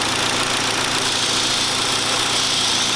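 Hyundai Sonata engine running at a rough idle with a steady, close, uneven drone and trembling vibration throughout, no talking.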